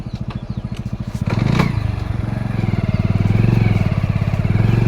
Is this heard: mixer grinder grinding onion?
no